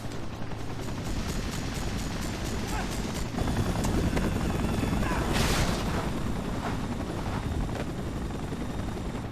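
A helicopter in the Spider-Man 3 video game thrums with a steady, loud rotor drone, joined by bursts that resemble gunfire and impacts, while a voice speaks over the action.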